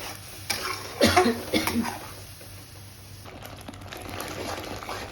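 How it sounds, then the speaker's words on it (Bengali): Spinach is stirred in a pan for palak paneer, with a few scraping, clinking strokes early on followed by a quieter, continuous low sizzle and occasional soft clatter. "পালং শাকটাকে বেশ কিছুক্ষণ নেড়ে রান্না করে নিতে হবে"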